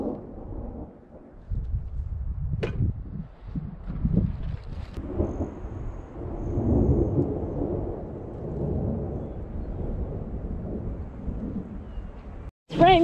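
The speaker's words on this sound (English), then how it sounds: "It's raining." Rain falls outdoors during a thunderstorm, with low rolling thunder rumbles and wind buffeting the microphone, moderately loud and continuous for most of the stretch before a sharp knock near the end.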